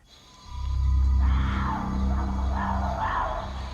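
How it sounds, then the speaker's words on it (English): A howler monkey howls in the pitch-black Costa Rican mountain jungle at night, a deep, loud, rasping roar that swells in and pulses in a few long bursts, heard alone without speech. "It's just a howl monkey."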